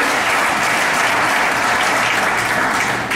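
A church congregation applauds together, a dense, steady wash of clapping that holds loud and even for about three seconds.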